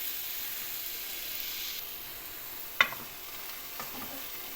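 Chopped cabbage curry being fried and stirred in a pan, a steady soft sizzle with a couple of sharp spatula scrapes and clinks toward the end, no talking.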